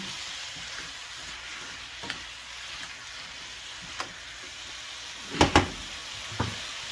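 A steady, fairly soft frying sizzle from a pan of restaurant-style butter chicken being stirred, broken by a few scattered utensil knocks and a cluster of sharper clanks near the end.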